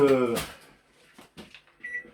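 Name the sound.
microwave oven being switched on to melt butter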